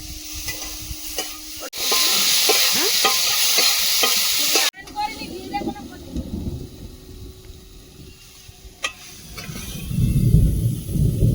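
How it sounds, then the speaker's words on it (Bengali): Prawns frying in a pan, a bright loud sizzle with spatula clatter that cuts off sharply, then a quieter crackle and stirring knocks, with a low rumble building toward the end. "চিংড়িটা ভেজে নিচ্ছি"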